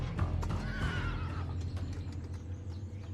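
A thoroughbred horse on a ranch gives a loud, close whinny that rises and trails off in the first second and a half, with faint hoof and stable noise after.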